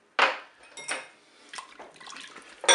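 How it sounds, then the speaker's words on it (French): A spoon stirs rice pudding in a Cookeo multicooker pot, giving a few close, distinct scraping clinks against the bowl with short pauses between strokes. "On mélange bien sûr."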